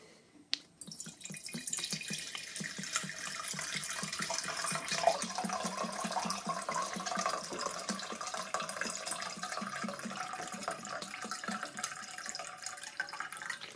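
About 400 milliliters of grain alcohol pours steadily into a flask for a Soxhlet capsaicin extraction, a continuous close trickling and gurgling that runs alone for most of its length.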